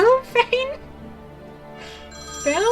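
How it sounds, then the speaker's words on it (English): A phone rings in the game Silent Voices, with short bright electronic trills near the start and again at the end, separated by quieter background sound. "the ringing stopped"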